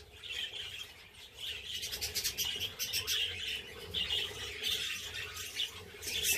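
Budgerigar chicks in a nest give dense, raspy squawks and chirps, continuous and close, with some rustling underneath.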